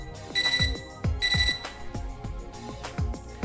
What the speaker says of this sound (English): Our mutual silence is interrupted by my computer's terminal beeping.